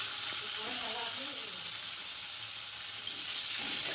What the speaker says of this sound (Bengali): তেল গরম হয়ে গেছে মাছের পিসগুলো দিয়ে দিলাম